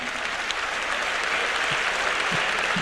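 Steady crowd applause at a church gathering, dense and continuous clapping filling the whole stretch at a moderate, even level with no pauses.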